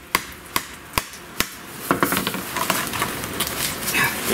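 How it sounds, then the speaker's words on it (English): A hammer with a full steel shaft strikes a Subaru charcoal canister, four evenly spaced sharp blows followed by a faster, busier flurry of knocks and rattles. "I notice you're using the hammer with the steel shaft all the way through."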